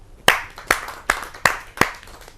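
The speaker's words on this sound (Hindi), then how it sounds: "तो आइए जोरदार तालियों से आपको बुलाते हैं।" Sharp, separate hand claps at a Hindi kavi sammelan poetry gathering welcoming a poet, five loud evenly spaced claps ringing out alone.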